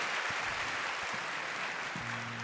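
A church congregation at a Sunday worship service claps to welcome new members, a steady wash of applause at moderate distance, with a low sustained tone entering near the end.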